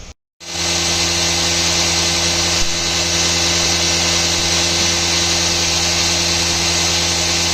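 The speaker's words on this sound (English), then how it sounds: "drill those holes, put screws in it, and then mill out the contour" Cutting parts for a homemade fifth-axis trunnion, a milling machine runs with a steady, loud motor whine and broadband cutting noise that starts abruptly after a brief silence and holds constant throughout.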